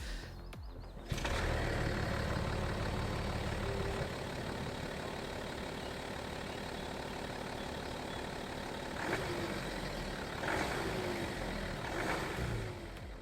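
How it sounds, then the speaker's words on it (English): A BMW 740d diesel engine idles quietly in a steady, low, even hum that carries on alone from start to finish, with a few faint higher whines rising and falling briefly near the end. "Even when you stand next to the car, you can barely hear the engine running."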